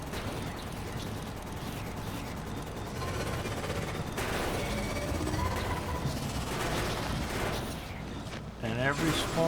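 Defensive gun turrets in Factorio fire continuously at attacking enemies, a dense, rumbling wash of rapid shots and mechanical clatter lasting several seconds, with talk underneath.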